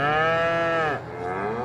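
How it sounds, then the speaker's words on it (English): A cow in the Farming Simulator 22 video game gives one long, loud, close moo that drops in pitch and trails off, alone with no talk. "All right, so we've got 6 cows in here"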